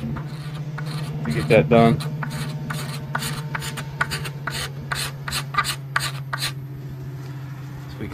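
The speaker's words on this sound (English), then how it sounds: "I'm just gonna be using a cabinet scraper" Cabinet scraper dragged over a black locust wood bow, giving a rapid series of short dry rasping strokes close up over a steady low hum, with a brief spoken remark early on.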